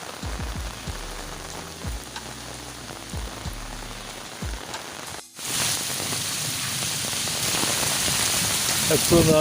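Heavy storm rain pours down in Dadyal, Azad Kashmir, a steady hiss of drops on surfaces that grows louder and denser in the second half, with a few dull knocks early on and no talk.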